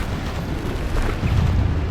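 Bombarda explosion spell blasting in Hogwarts Legacy, a rough, rumbling burst that swells louder toward the end amid ongoing combat noise.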